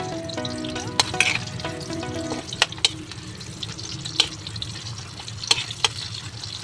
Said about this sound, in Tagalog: So magigisa na tayo ng sibuyas guys.